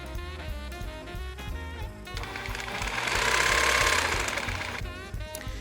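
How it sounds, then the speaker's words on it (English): Sewing machine stitching the side seam of a small doll's party dress from sleeve edge to bodice bottom, a steady rapid mechanical whir that swells louder mid-clip, with no talking. "Stitch from the sleeve's edge down the side of the garment to the bottom of the bodice"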